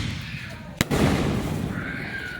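A Fourth of July firework explodes outdoors with one sharp, loud bang followed by a sustained roaring crackle.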